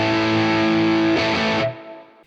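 Electric guitar played through a Tone King Imperial tri-tube preamp pedal, a sustained distorted chord ringing loud and close, then a brief strum before it cuts off and decays.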